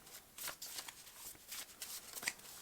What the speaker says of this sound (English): because it's not a very easy to shuffle deck.